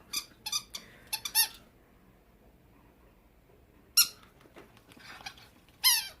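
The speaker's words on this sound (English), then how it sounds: "I apologize for the squeaky toy." A squeaky toy squeaks in a quick cluster of sharp bursts, falls quiet for a few seconds, then squeaks again twice. The squeaks are clear and fairly close against a hushed room, with nobody talking.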